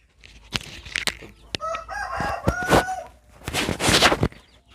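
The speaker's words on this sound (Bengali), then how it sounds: "খুব সুন্দর একটা মোরগ হচ্ছে দুই পিস" A rooster crows loudly at close range on a native desi chicken farm, with hens clucking around it in short bursts between calls.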